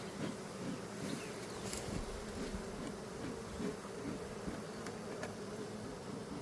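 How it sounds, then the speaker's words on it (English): Honeybees bearding on the outside of a hot hive and flying around it make a dense, continuous buzzing drone close by, with individual bees whizzing past. "It's when it's so hot inside of the hive that they come outside and kind of cluster on it."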